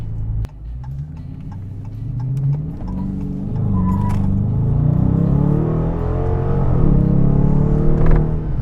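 A 2017 Dodge Challenger R/T engine pulls hard up a mountain road, a deep rumbling roar rising steadily in pitch and loudness as the car accelerates, heard close from inside the cabin.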